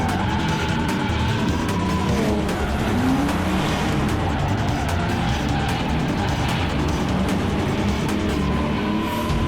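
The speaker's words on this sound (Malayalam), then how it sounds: "ആ കാർ വളരെ സ്പീഡായിട്ട് പോവാണ്" A cartoon car speeds away at high speed in the animated series Kick, its engine roaring in a continuous, loud racing whine with hints of tire squeal.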